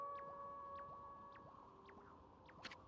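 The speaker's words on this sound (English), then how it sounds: "That was Kemu's howl." A wolf's howl from the Okami video game, heard as a long tonal call with several drawn-out pitch lines and repeated rising sweeps, faint over a low droning backdrop.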